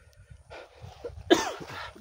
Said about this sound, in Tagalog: Inuubo na ko yata.